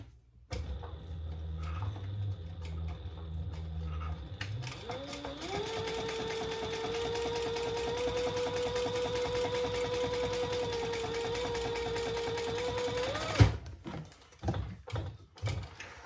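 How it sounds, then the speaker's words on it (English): A sewing machine runs a continuous seam at an eighth-inch allowance on a wallet, its motor whirring up to a steady fast hum with rapid needle clatter for about eight seconds, then stopping abruptly, followed by a few light clicks and handling knocks. "now we're going to stitch that at 1/8 of an inch"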